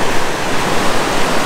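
Ocean waves break at Trestles Beach, California, a surf spot, in a loud, continuous wash of roaring white noise, close and unbroken, with no voices.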